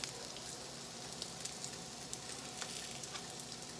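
Pan-seared salmon sizzling faintly in a skillet, a soft continuous crackle with scattered small pops and spatters, with no voices.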